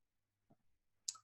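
A single sharp mouse click, quiet and isolated in near silence, preceded by a faint soft thump.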